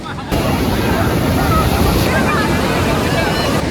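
Sea waves surge and wash onto the beach at Puri in light drizzle, a loud continuous roar with wind buffeting the microphone close by, no talk heard.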